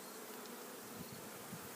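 Honey bees crowd over a hive frame, giving a steady, faint, close-up drone of many wings humming together without pause, and nobody talks.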